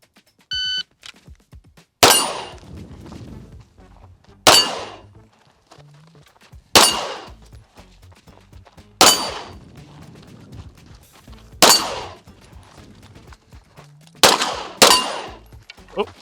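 Pistol gunshots on a USPSA shooting course with steel targets ring out as seven loud, sharp reports spaced a couple of seconds apart, each trailing a brief ringing decay, preceded by a short electronic start beep.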